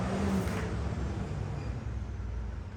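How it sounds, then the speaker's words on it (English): A huge truck drives past outside, a loud low rumbling roar that fills the room evenly and then eases off slightly, with no voices. "there was like a huge truck that just drove past. It was super loud"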